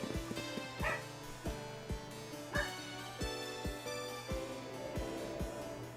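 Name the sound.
dogs barking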